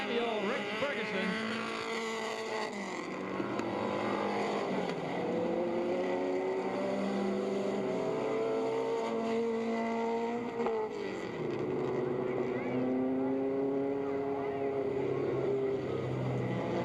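Mini-modified race cars at the Mount Clemens racetrack roar past in a continuous mix of engines, rising and falling in pitch as several cars pass in turn, loud and sustained.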